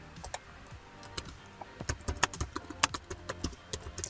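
Someone types on a computer keyboard at close range: a run of quick, irregular key clicks that starts sparse, then grows denser and louder toward the middle and end.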